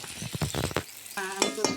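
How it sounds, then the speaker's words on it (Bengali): Vegetables frying in a pan until reddish, a steady sizzle broken by scraping and stirring strokes, with clinks of a utensil against the pan toward the end. "এগুলা লাল লাল করে ভাজে নেই।"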